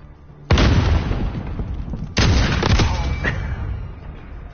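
Two heavy gunshots boom out in a Call of Duty: Modern Warfare match, each a sharp loud blast trailing into a rumbling decay, the second followed by a few lighter shots.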